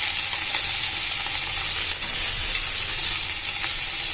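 Fenugreek leaves fry in a hot pan, giving a continuous loud sizzle with occasional soft scrapes of stirring, close by and with no talking.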